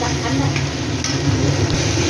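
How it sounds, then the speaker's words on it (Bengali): Capsicum sizzling and frying in a thickened tomato sauce with onion in a pan, a steady dense crackle with occasional stirring, close and continuous with no talk. "এবার আমি ক্যাপসিকামগুলো দিয়ে দিলাম এর মধ্যে"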